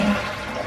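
A toilet flushes up close, a dense steady rush of water filling the short moment without pause or voices.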